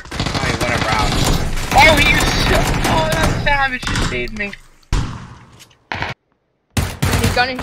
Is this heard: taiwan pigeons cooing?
no